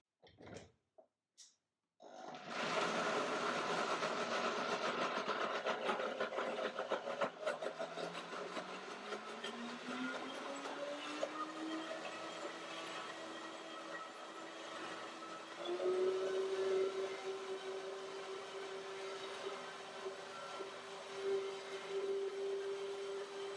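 A blender whirs through a small batch of cashew white chocolate cream after a few short knocks, its motor pitch climbing steadily, then holding a high, steady whine.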